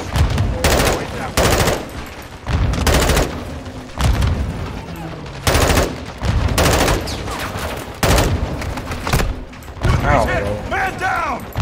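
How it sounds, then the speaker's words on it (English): Loud bursts of automatic gunfire in a first-person shooter game, roughly eight long volleys in a steady rhythm with short gaps, and voices speaking between the bursts. "I'm literally just shooting at random at this point."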